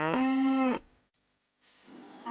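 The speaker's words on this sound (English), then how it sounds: "This is a cow." A farm cow lets out one long, loud, low moo that lasts under a second, followed by near silence and then a faint background rustle, with no talk.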